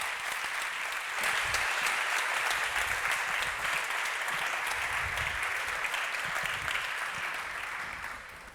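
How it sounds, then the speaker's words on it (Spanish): Studio audience gives loud sustained applause as chef Mikel López Iturriaga takes the stage on a late-night show, continuous dense clapping that tapers slightly at the end. "Un fuerte aplauso."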